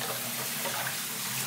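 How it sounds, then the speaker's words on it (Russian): Tap water runs in a steady, close, unbroken rush while a tray is washed under it. No voices are heard. "Моем нашу посуду."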